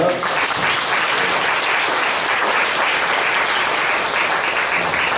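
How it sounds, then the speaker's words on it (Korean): Church congregation applauding in welcome during a Sunday service, a steady, dense wash of many hands clapping that fills the hall evenly throughout, with no voices above it. "여기 환영의 박수 부탁드리겠습니다."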